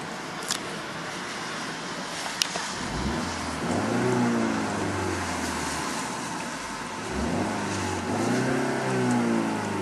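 A 2015 Volvo XC60 T5 FWD four-cylinder engine revved twice from idle, each rev rising and falling smoothly, heard nearby and fairly loud over a steady idle, with no talking.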